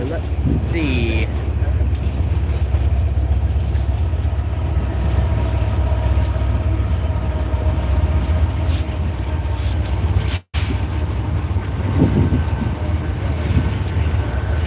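A loaded BNSF coal train with a trailing Dash 9 locomotive rolls past, a steady loud rumble and clatter of railcars with brief squeals, and people talk faintly over it.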